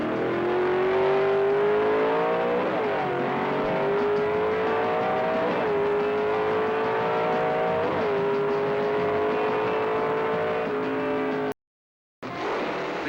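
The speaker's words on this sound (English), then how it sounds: "Watch Len go through those gears." A 1964-65 Ford Thunderbolt Fairlane drag car at full throttle on a quarter-mile strip, the engine winding up loudly and steadily, with its pitch dropping briefly at each gear change, then cutting off abruptly near the end.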